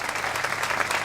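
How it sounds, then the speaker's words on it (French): A studio audience claps in a steady, even burst of applause, dense and continuous throughout the short stretch. "cela mérite encore des applaudissements"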